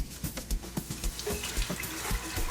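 Water running from a kitchen tap to measure two cups for homemade chicken and dumplings, a steady splashing stream with small gurgling bursts, moderately close.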